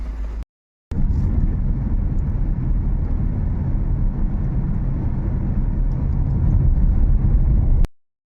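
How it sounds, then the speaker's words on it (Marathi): A car engine idles with a loud, steady low rumble close by. It is interrupted by a short break near the start, then runs on evenly before cutting off abruptly. "गाडी स्टार्ट मारून दवरली."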